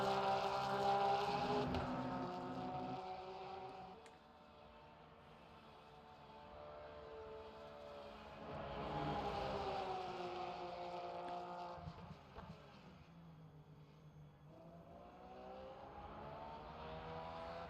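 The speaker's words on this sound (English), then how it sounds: "Gotta love the sound of these GT3 cars." GT3 race cars roar past in waves, engine notes rising and falling with harmonic sweeps as cars approach and pass, loud and close, with no talking.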